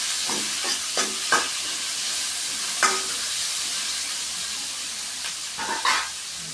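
Chopped tomatoes sautéing in a pan for a duck curry, a steady soft sizzle with a few spoon stirs and scrapes scattered through, fairly faint and close, with no talking.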